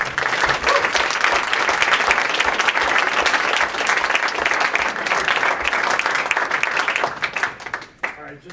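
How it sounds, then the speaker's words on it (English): An audience at a relationship panel applauds the mentors in a steady, dense round of clapping that holds for several seconds, then trails off quickly near the end. "Give them a round of applause."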